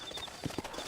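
Horse hooves clip-clopping in Red Dead Redemption: a quick run of hoof strikes, two of them sharp and distinct, at close range over steady ambient game noise with a faint high tone behind.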